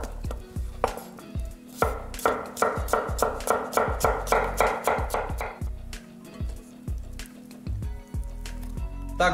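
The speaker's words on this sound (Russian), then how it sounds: "И огурец тоже нарезаем кубиком." A knife dices cucumber on a cutting board in a quick, irregular series of close taps, pausing briefly between bursts.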